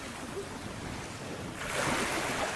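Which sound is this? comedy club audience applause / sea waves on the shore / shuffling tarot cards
sea waves on the shore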